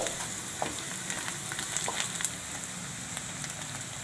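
Salt and coriander stirred into onions in a pan for kanda poha, a steady soft sizzle of frying with faint scraping stirs and light clicks throughout, close and fairly quiet.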